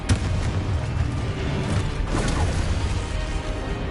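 A Confringo spell explosion in Hogwarts Legacy, heard as a loud boom and crash at the start with a rumbling tail and further bursts over dense, constant game noise.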